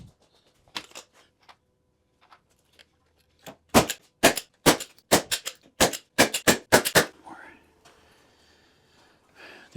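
Fastener gun firing down into a shop floor, a rapid string of about a dozen sharp, loud cracks in quick succession, with brief quiet handling noise before and after.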